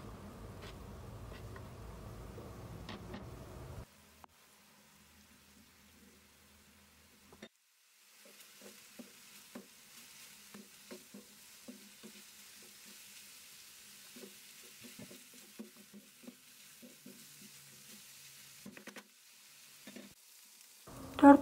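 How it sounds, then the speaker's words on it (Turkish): Chopped onion sautéing in a frying pan for a minced-meat pan börek, a soft steady sizzle with scattered crackles and faint stirring, close and quiet, broken by a brief louder burst near the start. "Kavurma işlemine devam edelim."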